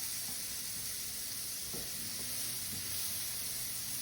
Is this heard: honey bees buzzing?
no